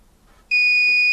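After a faint moment of near silence, a Lyman Gen6 electronic powder dispenser's sharp, steady beep starts abruptly and holds loud and piercing to the end.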